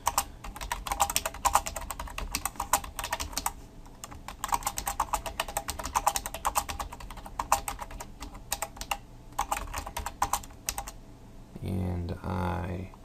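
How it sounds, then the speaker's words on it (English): Fast, steady typing on a computer keyboard while entering a blog comment, dense clicking bursts with brief pauses, close and clear, ending with a short stretch of speech. "So I'm just going to type in anything."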